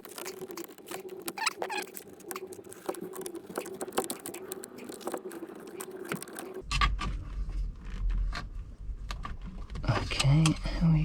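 A screwdriver works retaining clips off a gear cable assembly on a Mercedes Sprinter or VW Crafter manual gearbox, producing close, irregular small clicks and plastic taps, with a louder clattering stretch toward the end.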